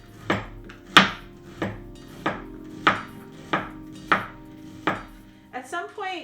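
A knife dicing an onion on a cutting board: seven evenly spaced crisp chops, close and clear, followed by a quick cluster of lighter knocks.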